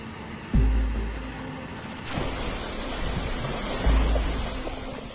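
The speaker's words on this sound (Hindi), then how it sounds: "बाढ़ गाड़ी को तिनके की तरह बहा कर लेकर जा रही है" Powerful roaring rush of floodwater surging continuously and sweeping a vehicle along, with low booming swells and a burst of noise partway through.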